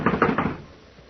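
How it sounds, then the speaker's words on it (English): Three quick knocks rap on a locked door, close and firm, then fade into near silence. "I'm going to knock."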